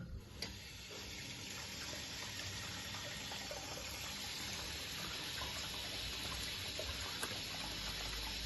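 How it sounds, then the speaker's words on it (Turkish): Water from a bathroom tap runs steadily and fills the space with a continuous close hiss, with faint ticks of dripping from a leaking pipe joint beneath it. "suyu açınca"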